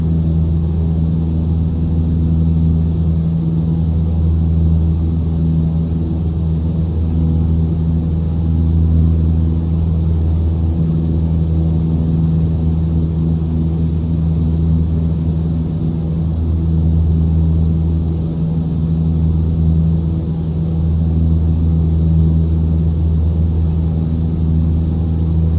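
Steady, droning piston engine of a Cessna 152 climbing at 80 knots out of Kona in Microsoft Flight Simulator, a constant loud hum with low harmonics that holds unchanged throughout.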